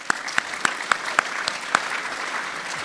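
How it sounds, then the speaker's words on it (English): An awards-ceremony audience applauds the SAC board, a steady wash of clapping with several sharp, louder claps standing out over the first two seconds before settling into even, sustained applause. "Can we have another round of applause for the SAC board,"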